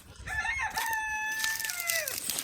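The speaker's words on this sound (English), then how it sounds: "when I start talking, so do the roosters" Rooster crowing outdoors in a garden, one long drawn-out cock-a-doodle-doo with a clear rising and sustained call that fades at the end, moderately close over faint background.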